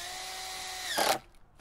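A power drill whines up close for about a second while driving a screw into a wooden garden bed frame, ending in a brief harsh burst as the screw seats and the motor stops.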